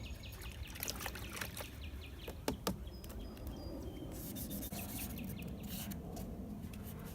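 Steady rubbing and scratching of sandpaper over a primed guitar body, a continuous close scrape with a few sharper knocks and scuffs along the way.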